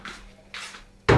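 A small cooking pot handled in a home kitchen while preparing canned saury: two soft scraping clatters followed by a sharp, loud metallic knock at the end, with no talk.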